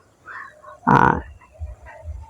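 A dairy cow on a farm gives one loud, close moo lasting about a third of a second, with quiet farmyard background before and after.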